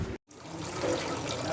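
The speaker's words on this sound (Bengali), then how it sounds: "লাস্ট মোমেন্টে জল ভরা" Water pours into a bottle at home in a steady, close trickle after a brief cut at the start, rising slightly in pitch as the bottle fills.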